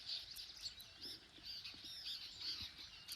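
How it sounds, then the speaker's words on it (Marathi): A peacock calls from a tree in the morning, faint and distant, a few high squawking cries over soft background chirps. "मोराचा आवाज येत असेल तुम्हाला."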